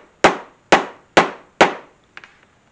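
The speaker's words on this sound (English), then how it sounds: "I'm just going to tap that finishing nail through that drilled hole" A hammer taps a finishing nail through a drilled hole in a leather hunting knife sheath: four loud, sharp, evenly spaced blows up close, followed by a couple of lighter, fainter taps.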